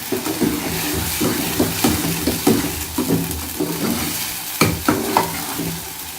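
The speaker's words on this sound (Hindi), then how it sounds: "हलवे को उस वक्त तक पकाना है जब तक इसके अंदर से घी ना बाहर निकल आए।" Semolina halwa with dry fruits cooks in ghee, a soft frying sizzle under rhythmic scraping and stirring strokes of a spoon against the pan, with no voices.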